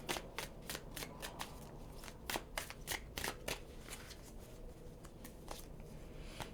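Tarot cards being shuffled by hand, a steady stream of crisp riffling flicks and slaps up close, fairly soft and continuous, with no speech.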